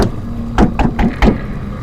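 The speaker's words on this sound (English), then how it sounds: "Like the sound of someone knocking hard on a wooden door." Hard knocking on a wooden door, four dull thuds spaced at roughly even intervals over a low steady hum, close and fairly loud, with no voices.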